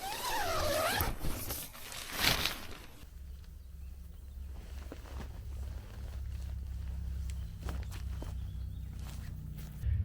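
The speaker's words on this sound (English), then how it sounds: "Well, you still have to bend down for the zip" A zipper on the tent door of a NatureHike Cloud Up 2 PRO is pulled in a couple of quick, close, raspy strokes, followed by rustling fabric and footsteps.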